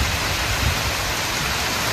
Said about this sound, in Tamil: இங்கே பாருங்கள், மழை இப்போல்லாம் விடாதுங்க